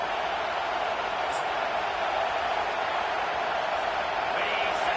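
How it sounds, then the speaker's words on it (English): Football crowd in a stadium roaring for the home defense on third down, a dense, continuous wall of cheering that stays loud and steady throughout, with a few faint whistles. "Decibels rising as the crowd gets behind this defense on 3rd down"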